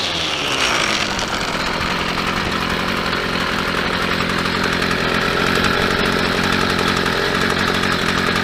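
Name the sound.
Stihl trimmer engine running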